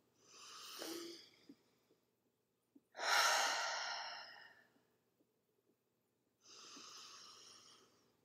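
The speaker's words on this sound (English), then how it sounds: "First, a cleansing breath." Deep cleansing breaths in a yoga session: a long audible inhale, a louder drawn-out exhale with a slight sigh, then another breath, close and quiet with pauses between.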